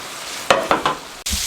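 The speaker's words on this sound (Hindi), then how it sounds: "ये पूरे मैं इसी तरीके से सब फ्राई कर लूँ" KFC-style crispy chicken pieces deep frying in hot oil, a close, steady sizzle broken by a few louder crackling bursts, with a short knock near the end.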